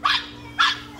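A pug puppy gives two sharp, close yaps about half a second apart, with a quiet pause between them, outdoors by a pool on a sunny day.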